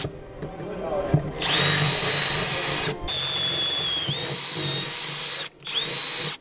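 A power drill bores holes for a roll cage being installed in a BMW E92 M3, with three close, loud runs of a steady high whine separated by short pauses.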